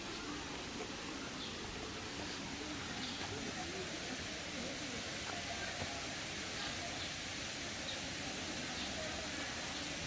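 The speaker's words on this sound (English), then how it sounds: "You can hear the sound of the water." Waterfall fed by a spring in Songkhla, heard as a continuous even hiss of rushing water, constant in level throughout with no breaks.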